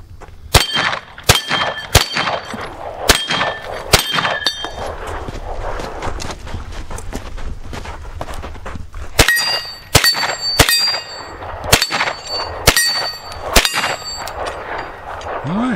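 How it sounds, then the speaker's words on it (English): Ruger PC Carbine shots ring steel targets, with a series of sharp metallic clangs and pings in spaced bursts, some in quick pairs, each leaving a short bright ring. "let's set up a few more targets and do some more shooting"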